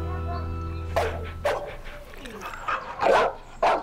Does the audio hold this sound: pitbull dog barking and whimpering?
yes